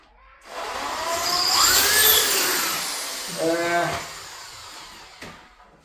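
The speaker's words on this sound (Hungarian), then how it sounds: "De ahhoz ki kell fúrni a falat is" A power drill bores into a brick wall to set a wall plug, whining up to a loud steady grind, easing off, then a short buzzing burst before stopping.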